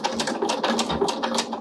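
A sewing machine stitches fabric on a small zippered pouch, running in a fast, even chatter of needle strokes at close range for the whole stretch.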